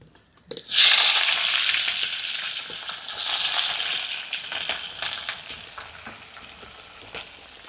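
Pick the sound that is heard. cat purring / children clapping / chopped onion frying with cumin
chopped onion frying with cumin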